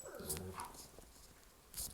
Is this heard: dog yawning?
yes